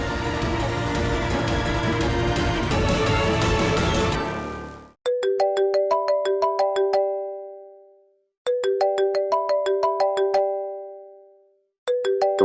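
A mobile phone ringtone plays a repeating bright chiming melody in three loud bursts, with gaps between them, after a dense musical passage fades out; the call is from an aunt.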